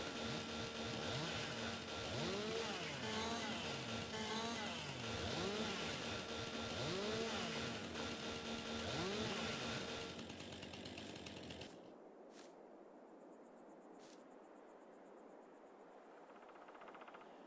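A chainsaw in a survival video game revs and bites through a tree in repeated surging strokes, loud and close for about ten seconds before cutting out, leaving a quiet ambient hiss.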